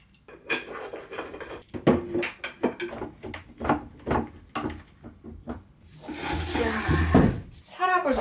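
A drawer slides into a solid-wood Marketbe bookshelf during assembly in a bedroom, giving a few wooden knocks and a scraping slide that rise above ongoing talk.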